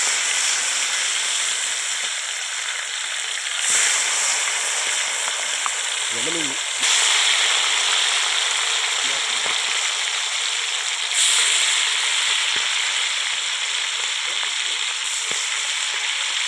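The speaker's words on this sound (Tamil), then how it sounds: "இப்போ ஆல்ரெடி ஒரு 6-7 மீன் போட்டிருக்கேன். இது ஃப்ரை ஆகட்டும்." Ayala mackerel frying in a pan of hot oil, a steady loud crackling sizzle running throughout with occasional brief bursts and a few faint clinks, no talk over it.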